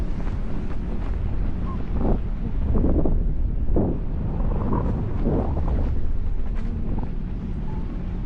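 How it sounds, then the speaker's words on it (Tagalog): Heavy wind while parasailing in Boracay buffets the microphone in a constant low roar, with surges and gusts throughout and no clear talk. "Lakas ng hangin."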